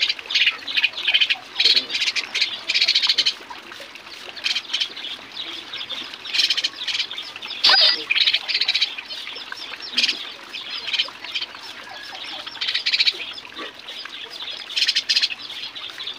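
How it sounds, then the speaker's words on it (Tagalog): Hungry pet sparrow chicks chirp and squawk nonstop, a dense, loud, high-pitched chorus of rapid overlapping cheeps close by, with brief rustling. "nag-iisang maya na lang yung ating alaga"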